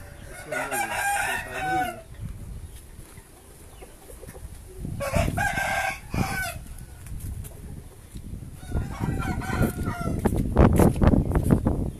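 Several roosters crow in loud, drawn-out calls, separated by pauses, with hens clucking and bustling noise building toward the end.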